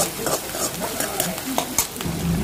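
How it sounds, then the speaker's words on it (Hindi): Onion frying and being stirred in a pan at home, a steady close sizzle with scraping stir strokes throughout. "प्याज को थोड़ा सा लाल होने दूंगी"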